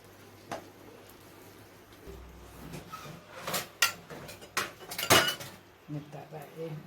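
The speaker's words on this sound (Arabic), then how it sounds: "ابدأ بقى نغرفه بقى في الاطباق مع بعض" Homemade Egyptian-style rice pudding is scooped into serving dishes, with soft clinks and taps of a spoon on bowls coming in irregular bursts, close by and fairly quiet.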